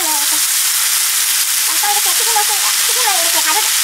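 Tempura batter sprinkled into hot frying oil while shrimp fry, giving a loud, steady close-up sizzle and crackle with small popping bursts throughout, and no voices.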